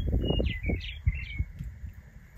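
Small birds chirp in short, high, faint calls around a quiet campground near a hot spring, heard over low background rumble.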